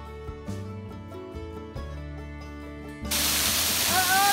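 Tonal background gives way after about three seconds to a sudden, loud broadband rush of a waterfall heard up close from behind the falling water, continuing steadily to the end.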